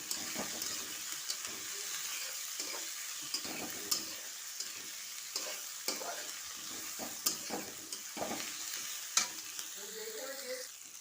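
Onion, ginger, garlic, cardamom and cinnamon frying in a pan, a constant soft sizzle broken by irregular scrapes and knocks of a spoon stirring, close and fairly quiet with no voices.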